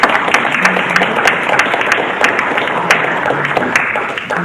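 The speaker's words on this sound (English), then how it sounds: "how about a round of applause for" Audience applause closing a panel event on new lawyers and technology, dense continuous clapping from a room of attendees, loud and close, holding steady for several seconds.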